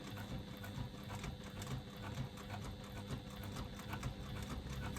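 A sewing machine stitches an internal zipper pocket in a steady, rapid mechanical whir with a regular chattering pulse throughout, fairly quiet.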